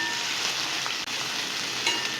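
Cut bhendi (okra) sautéed in a hot pan gives a steady, close, even sizzle with faint stirring scrapes, and no voices.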